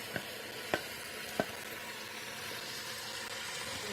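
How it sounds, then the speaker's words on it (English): Potatoes being added to a sizzling samosa filling in a pan. A soft, steady frying hiss runs throughout, with three brief knocks or clatters early on. "Now we're just going to add the potatoes to the mix. Goes right in there."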